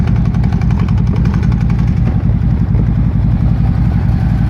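A Harley-Davidson motorcycle fitted with a Vance and Hines fuel pack idles loudly and steadily up close, its engine throbbing with a rapid, uneven lumpy pulse throughout.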